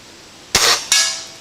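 Two sharp air rifle shots firing Sig Sauer match pellets, spaced under half a second apart, each a loud crack with a brief decaying tail.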